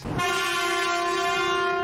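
A locomotive horn in a Sonic game sounds with a Shinkansen-style tone. One loud, sustained, steady chord blares close up for nearly two seconds after a brief rushing onset.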